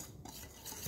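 Condensed milk cake batter is stirred in a bowl, giving a continuous soft, wet scraping and swishing close by, with no voices.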